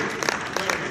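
An audience applauds as a judge comes to the podium to give closing remarks, a brief wash of dense clapping in a hall with a few sharper claps standing out.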